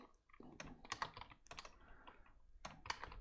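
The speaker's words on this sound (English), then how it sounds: "I'll type this in the live stream chat channel." Typing on a computer keyboard in irregular clustered bursts of clicky keystrokes, close and fairly quiet, with no talking.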